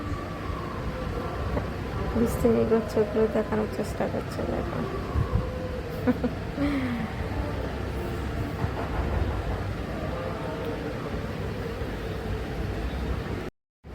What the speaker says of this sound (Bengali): ট্রেনের মধ্যে ছিলাম